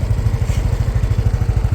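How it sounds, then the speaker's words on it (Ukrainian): A Yamaha Nmax 125 scooter engine idles close by with a steady, even chugging pulse, a low rhythmic putter running throughout with no voices. "Послухайте, мотор взагалі працює дуже гарно."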